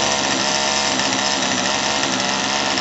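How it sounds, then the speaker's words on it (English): Poulan Wild Thing 2375 chainsaw under carburetor repair, its small two-stroke engine running at a high idle: a loud, steady, buzzing drone held close without change for the whole stretch. "when you get it started and it's idle and high, the chain will be moving, so be careful"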